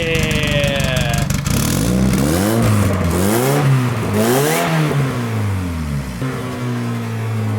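A twin-turbo Honda Civic engine runs loud and close, idling roughly before climbing through several rising and falling revs, then settling back to a rough idle.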